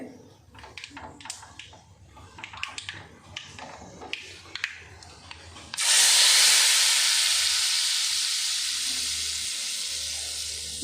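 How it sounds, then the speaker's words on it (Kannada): Tempering for cluster bean (chavalikai) palya hits hot oil with a sudden loud sizzle that hisses on and slowly fades, after a stretch of quieter kitchen clatter. "ಅದು ಒಗ್ಗರಣೆ ಹಾಕೇನೆ ನೋಡಿ"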